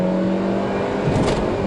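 A Hyundai Veloster accelerates with a steady, loud engine drone and a rising whir building toward the end; no talking.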